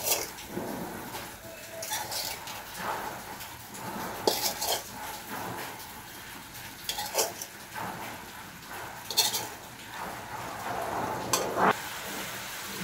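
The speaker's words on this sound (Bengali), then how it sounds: "এখন দিয়ে দেবো ভেজে রাখা ডিম।" Fried eggs go into a spiced masala in a cooking pan, with faint scraping, clinking spoon-on-metal knocks and a soft wet sizzle spread over several seconds.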